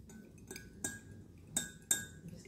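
A utensil stirs liquid dye into melted wax for wax melts, giving a few sharp clinks against the container amid near silence, with soft scraping between them.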